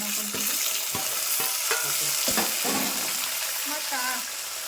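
Tomato frying in a pan with a steady hiss and sizzle, broken by repeated scraping and stirring strokes, close and loud with no talking.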